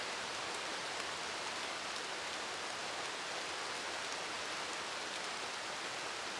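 Rain falls steadily on an outdoor spot during a turkey hunt, a somewhat heavier shower giving an even, quiet hiss with no voices.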